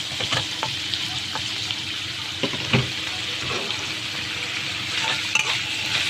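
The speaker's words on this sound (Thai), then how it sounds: "พอผัดกุ้งได้ประมาณนี้นะคะ ไม่ต้องสุกมากเราก็ใส่ หัวหอมไปเลยค่ะ" Shrimp and onion stir-frying in a pan for curry-powder shrimp, a continuous close sizzle with intermittent spatula scrapes and clatters, no voices.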